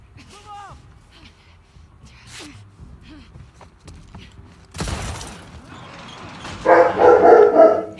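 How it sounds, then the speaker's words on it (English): A dog in The Last of Us Part II yelps and barks in several sharp bursts, followed by a crash and then louder, rapid barking near the end, with quiet game sounds between. "God damn it, the dog."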